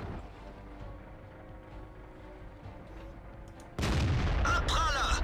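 Tank cannon fire in World of Tanks: a low, rumbling battle bed gives way to a sudden loud blast near the end, followed by sustained heavy booming.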